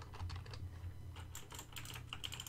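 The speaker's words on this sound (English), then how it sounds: "I should do normal typing" Ordinary typing on a computer keyboard at a desk, a steady run of quick, light key clicks close by, fairly faint, with no voices.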